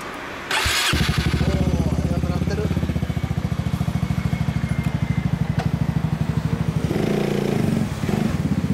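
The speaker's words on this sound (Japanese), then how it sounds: "エンジン音聞かせて。" A Honda Forza MF10 big scooter engine starts and runs with a loud, steady, rapid thumping idle up close.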